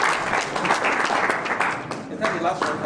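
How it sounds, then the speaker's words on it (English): An audience at a plenary session breaks into a short burst of dense, continuous clapping, loud and close, with voices mixed in. "Please clap for me now."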